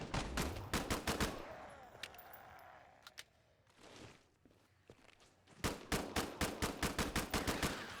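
Rapid bursts of SMG fire in Killing Floor 2, sharp close shots in quick regular volleys at the start and again near the end, separated by a quieter stretch of footsteps and faint game noise.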